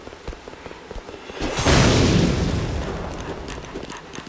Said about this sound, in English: He blew up the barrel.